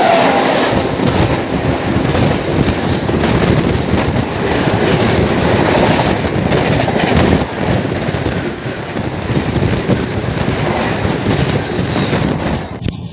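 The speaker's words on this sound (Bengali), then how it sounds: "সামনে থেকে আসছে 12246 দুরন্ত এক্সপ্রেস," Duronto Express (Bengaluru–Howrah, 12246) passing from the opposite direction, a loud continuous rushing roar with rattling and wind buffeting, briefly dipping midway before surging again.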